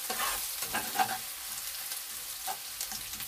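Fish sizzles in a frying pan for Filipino fish sarciado, with a steady hiss of hot oil and a few soft stirring scrapes close by, no voices.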